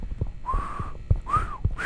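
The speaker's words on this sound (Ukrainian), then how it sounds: "А, тут свист прям" Someone whistles a few short rising and falling notes, each a sustained tone lasting under a second, over low background thumps and movement noise.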